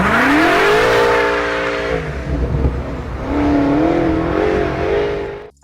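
A BMW M8 Competition's 4.4-liter twin-turbo V8 revs loudly and close up, rising to a sustained high pitch, dipping briefly, then climbing again before cutting off abruptly.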